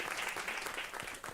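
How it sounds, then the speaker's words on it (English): Faint applause from a conference audience greets a panelist at a food-policy event, a brief, even patter of many hands heard at a distance and quite low in level. "Give him a round of applause."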